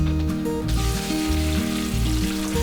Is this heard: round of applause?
no